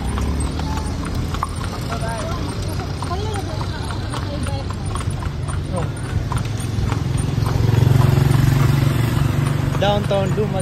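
A tartanilla horse carriage rolls through downtown Dumaguete City, hooves clip-clopping steadily and close, with street traffic beneath and people talking throughout, growing louder near the end.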